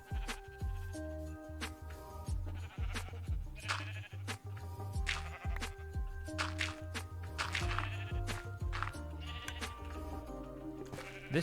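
In Minecraft, a crowd of sheep bleats continuously, the loud, close calls overlapping in a dense, chaotic chorus mixed with clicks and game noise across the whole stretch.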